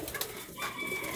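A soft king pigeon coo rises briefly amid faint background hiss, with a thin high tone drifting behind it; no one speaks.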